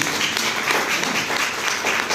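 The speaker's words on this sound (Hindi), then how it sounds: "कभी कभी आप लोग ताली बजा सकते हैं" An audience at a talk bursts into loud, sustained clapping. Many hands beat in a close, dense wash that stays steady from start to finish.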